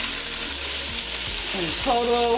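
Cabbage caramelizing in oil after about twenty minutes of cooking gives a steady, close hiss of frying, with a person talking briefly over it.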